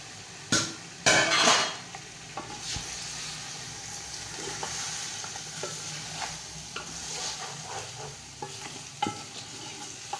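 Mutton frying in a pan with garlic ginger paste and green chilli, a steady close sizzle with clattering stirs and scrapes, louder bursts near the start, no talking.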